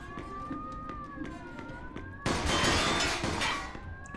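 In the video game Mafia II, a wailing police siren rises and falls, then a loud burst of noisy crashing takes over the second half.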